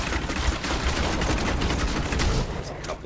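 Rapid, dense gunfire from the Diablo 3 video game, with a time-slow effect on the bullets, rattling continuously at close range and fairly loud across the whole stretch, with a brief dip near the end.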